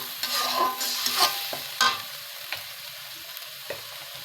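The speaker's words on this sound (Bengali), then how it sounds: "সবগুলো উপকরণ ভালোভাবে নেড়ে চেড়ে মেশাচ্ছি" Egg korma ingredients mixed with yogurt get stirred in a pan: a spoon scrapes and sloshes through the thick mixture in close, irregular strokes, busier at first, then sparser knocks against the pan.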